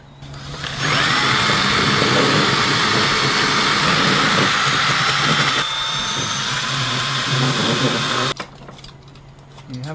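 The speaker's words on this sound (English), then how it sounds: "then the drill." A power drill bores a hole through plastic, whining loudly and continuously for about seven seconds with a slight dip in pitch midway, then cutting off abruptly into quieter room noise.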